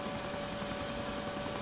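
An attack helicopter flies in the ARMA II video game, its rotor and engine making a steady, even, pulsing drone with a constant whine and no talk.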